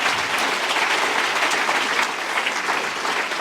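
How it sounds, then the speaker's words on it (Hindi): An audience at a spiritual gathering bursts into sustained, loud applause, a dense steady clatter of many hands clapping with no pause. "तो अनिल भाई के लिए एक बार जोरदार ताली लगाएंगे आपसे।"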